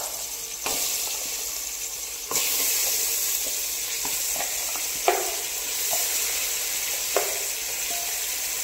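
Cleaned goat trotters go into a pan with spices for a mutton paya curry and fry with a bright, loud sizzle. The sizzle jumps up as they are added, with occasional clinks of stirring and no talk.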